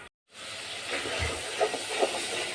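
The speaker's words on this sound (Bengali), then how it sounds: "মশলাটাকে ভালোভাবে কষিয়ে নিব" Spice paste with salt sizzles in a pan as it is sautéed for a thin nola fish curry with stalks, a steady, close hiss starting after a brief silence and holding evenly throughout.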